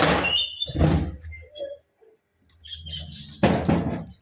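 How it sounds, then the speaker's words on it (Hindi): A door to a parrot and bird enclosure opens with two short scraping, sliding bursts a few seconds apart, and faint bird chirps sound in the quiet between them. "तो दरवाज़ा खोलते हैं ज़रा।"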